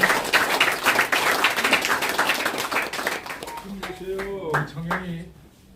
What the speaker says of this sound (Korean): 우리 네, 박수 한번 부탁드립니다